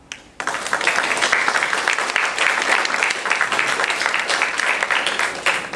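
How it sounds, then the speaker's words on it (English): Sustained audience applause fills the room at a ward councilor forum, starting abruptly after a brief quiet moment and continuing as dense, steady clapping from a crowd. "please hold your applause"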